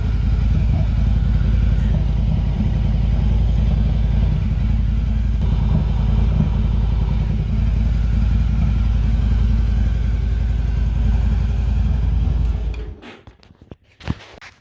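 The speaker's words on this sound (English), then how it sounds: "now that we ran the motorcycle" Motorcycle engine running steadily close by, a loud continuous low rumble with a fast pulsing beat, then cut off near the end, leaving a few clicks and a short clatter.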